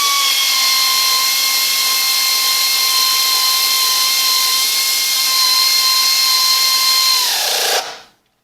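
A power tool on a low setting snugs transmission bolts on a Chevrolet Turbo 350, a loud, steady, close high whir held for several seconds before winding down and stopping.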